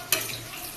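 Food sizzles as it is stirred in a frying pan while cooking at home, a brief scrape followed by a steady hiss of hot oil.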